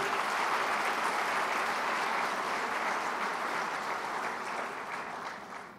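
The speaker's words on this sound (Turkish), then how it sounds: "Kendilerini alkışlıyorum." Steady, loud applause from a large crowd at a Turkish presidential consultation and evaluation meeting, dense and continuous throughout, tapering slightly at the end.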